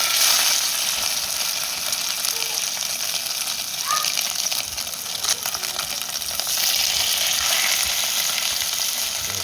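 Bream-type brim fish sizzling in hot oil in a smoking pot, a steady broadband frying hiss that stays loud and continuous throughout.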